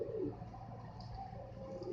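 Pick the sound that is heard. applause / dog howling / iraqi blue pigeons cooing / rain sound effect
iraqi blue pigeons cooing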